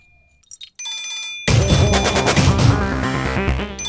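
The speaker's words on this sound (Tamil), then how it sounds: "மச்சான் உங்க போன் அடிக்குது" A mobile phone ringtone plays loud and close as a melodic electronic ring, starting after a few short beeps and continuing steadily, in a domestic scene from a Tamil TV serial.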